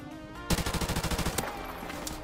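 A video game gun fires a rapid automatic burst of about a dozen quick, evenly spaced shots. The burst lasts roughly a second at moderate loudness and ends in a short tail, with no talking over it.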